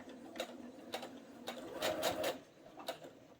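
A sewing machine stitches a mitered corner in short bursts, with a needle being lowered and the presser foot guiding the fabric; several quick mechanical clicks and a brief run of stitching sound close by with no talking.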